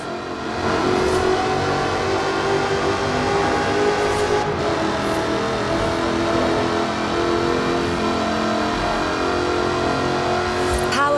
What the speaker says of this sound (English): a 5-litre V8 supercharged engine, With a fully aluminium body, it's blisteringly fast